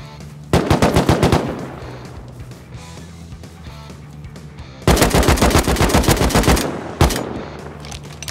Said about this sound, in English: One AK's lit up the hill